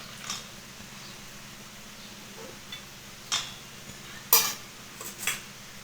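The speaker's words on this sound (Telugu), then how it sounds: "సన్నగా తరిగి పెట్టుకున్న ఉల్లిపాయలు వేసుకొని కలుపుకుందాం" Onions and soaked chana dal batter get mixed by hand, giving soft wet squelches and a few sharper clinks and taps spaced irregularly, close and fairly quiet against a low steady hum.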